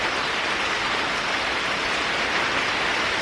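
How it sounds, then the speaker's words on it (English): Hard summer rain pouring steadily outdoors, a dense, loud, unbroken hiss of drops with no thunder, filling the whole short stretch. "It's not like a thunderstorm, it's like just like raining hard."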